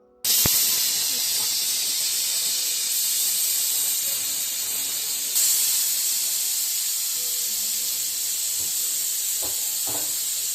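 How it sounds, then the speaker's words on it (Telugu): A pressure cooker with coconut rice inside releases steam in a loud, continuous hissing whistle that starts abruptly and holds steady throughout, with faint background clatter near the end. "మూత పెట్టుకున్నాక ఒక 2 విజిల్లు రావాలండి"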